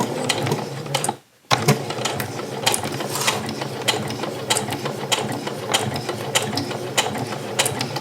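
A sewing machine runs steadily while stitching a 1 cm seam on a patchwork bustier, a busy mechanical whir with rapid clicking. It cuts out briefly for a short pause, then carries on at the same pace.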